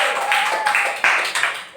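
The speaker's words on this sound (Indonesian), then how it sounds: "tepuk tangan untuk semuanya" A class claps in short, rhythmic bursts, with sharp hand strikes spaced across the moment and voices chanting along.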